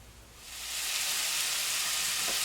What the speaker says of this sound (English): our sausage is on and popping